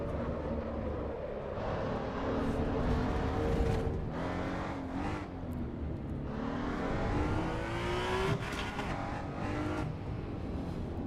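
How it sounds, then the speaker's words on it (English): Racing car engines in Assetto Corsa EVO rev and shift steadily throughout, a continuous loud drone with rising and falling pitch sweeps as gears change, heard alone without talk. "The sounds are bad on the cars,"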